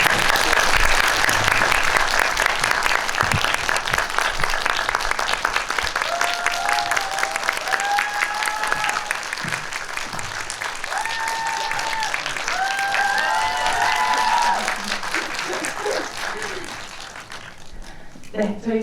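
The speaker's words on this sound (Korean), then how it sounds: "큰 박수 부탁드립니다." Audience applause at a Korean film premiere talk, welcoming the actors and director onto the stage; sustained loud clapping from a packed theater audience for about eighteen seconds, with a few faint voices over it, fading at the end.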